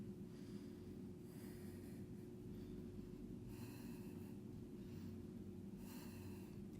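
Deep, steady yoga breathing during a vinyasa flow, three or four slow breaths through the nose with a soft rushing, snort-like texture, close and quiet over a constant low hum.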